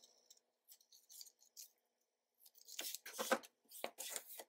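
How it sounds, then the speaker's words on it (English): Scissors trimming the corners of a paper junk journal page, with several light snips at first and then a quick run of louder, sharper cuts close by, no talking. "So let's trim the corners on this one also"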